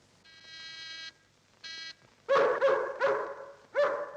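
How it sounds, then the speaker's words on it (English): A dog barking from a 1944 Sherlock Holmes film, The Scarlet Claw: after two steady buzzing tones, four loud, close barks come at irregular intervals. "Don't like the sound of that dog."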